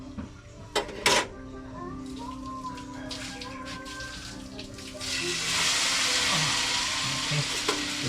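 Eggplant omelette sizzles in a frying pan, a steady crackling fry that swells louder midway, with a few sharp clinks of utensils and faint voices in the background.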